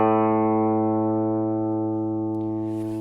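A single electric guitar note or chord rings out through a compressor pedal set to 0% mix, sustaining cleanly and slowly fading over a few seconds, alone with no talking.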